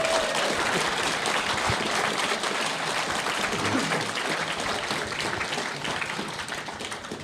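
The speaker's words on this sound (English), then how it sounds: "please just give a round of applause to our audience" Steady applause from a panel audience at a retro gaming expo, sustained clapping throughout with a dense, even texture that slowly fades toward the end.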